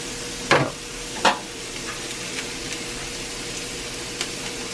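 Turkey teriyaki meatballs sizzle in a cast iron pan, a steady close frying hiss broken by two sharp scraping stirs early on and a few lighter clicks of the utensil, with no talk.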